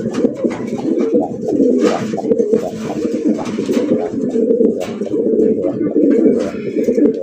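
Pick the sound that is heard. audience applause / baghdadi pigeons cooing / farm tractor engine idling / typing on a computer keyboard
baghdadi pigeons cooing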